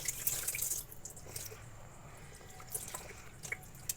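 Water poured and dripping over a ser of wheat grains in a vessel as they are rinsed and set to soak, a splashy burst at first settling into softer trickles and drips, close and alone.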